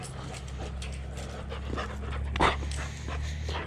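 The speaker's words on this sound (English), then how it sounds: "That's a doggy. That's my doggy." A dog pants steadily and close by on a desert trail walk, with a brief louder whimpering rise near the end over a constant low hum.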